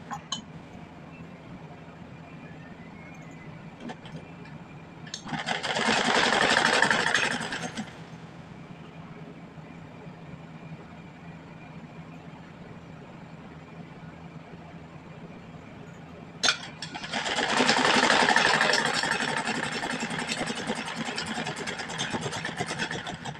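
A sewing machine stitches a sleeve onto a kurti in two runs of whirring motor noise, a short burst and then a longer one, separated by a quiet stretch.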